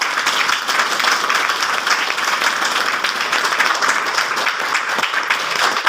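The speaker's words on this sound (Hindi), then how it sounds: "जोरदार ताली।" Audience applause at a business plan meeting, a dense, steady wash of many hands clapping that holds evenly at full volume throughout, with no voices standing out.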